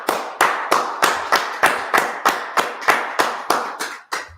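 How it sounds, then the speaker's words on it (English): Sharp, evenly spaced slow claps, about a dozen in a steady rhythm like a single group clapping together in a reverberant hall, loud and close, with nobody speaking. "Go ahead, clap it up."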